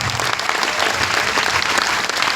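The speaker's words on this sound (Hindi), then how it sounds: "तालियां बनती है इस व्यक्ति के लिए।" Thick, continuous applause from a seated audience at a motivational session in Agra, a loud even roar of many hands clapping with no pauses across the whole stretch.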